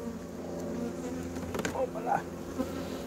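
Honeybees hum around hive frames of drawn comb during beekeeping work, a low steady drone with individual bees buzzing closer in brief passes.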